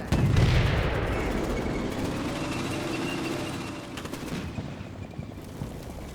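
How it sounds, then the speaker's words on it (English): Combat Mission Cold War battle with distant rumbling RPG and gunfire, a steady wash of battlefield noise with a louder blast at the start and scattered shots near the end. "Oh, he might be taking RPG fire."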